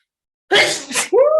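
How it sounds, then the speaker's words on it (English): A single sharp sneeze bursts out after a brief silence, loud and close, with a short breathy gasp before the explosive release. "I'm going to have to sneeze."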